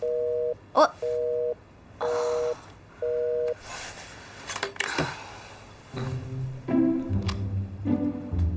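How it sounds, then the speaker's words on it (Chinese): A mobile phone busy signal sounds as four evenly spaced, steady beeps, then gives way to a muffled handling noise and soft music underneath. "我刚才给你打手机，你的手机占线"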